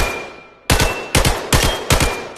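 Vityaz SMG fire in the VR shooter Vail VR comes as four sharp, loud bursts of rapid shots spaced apart, each followed by a brief decaying tail.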